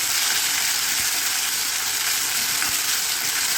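Cumin seeds fry in hot oil for a sprouted horse gram curry, a steady, bright, close hiss without breaks.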